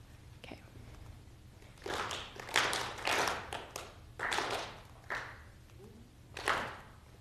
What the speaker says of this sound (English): I want you to either clap or slap your leg when you see a letter.